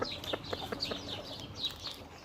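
Hens cluck in a chicken coop, soft repeated clucks and short calls from several birds at a modest distance over quiet background, with no talking.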